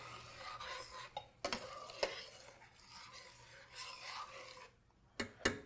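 Quinoa being stirred in a cooking pot, a soft scraping rasp with a few sharper clinks of the utensil against the metal, close and fairly quiet, no voices.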